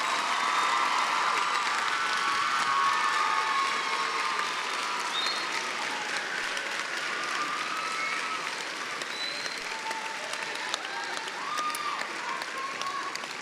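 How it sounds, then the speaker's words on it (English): A school assembly audience breaks into steady, sustained applause, a dense wash of many hands clapping that continues evenly throughout with a few faint cheers mixed in. "I think it completely appropriate to give a resounding applause for these young men, women, and Dr. Dieg for their efforts."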